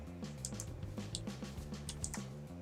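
Mouse and keyboard clicks while playing the survival game Screaming Dayz, with light rapid taps in an irregular run, faint and close, with no voice over them.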